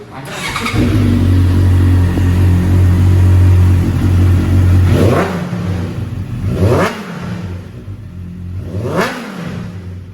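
A Honda CB650F motorcycle's genuine Akrapovic exhaust rumbles loudly at idle, then is blipped three times, each rev rising and falling sharply, nearby and without talk.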